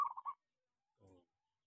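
A perkutut, a local zebra dove, gives a short run of soft cooing notes at close range, followed by a quieter low murmur after a pause.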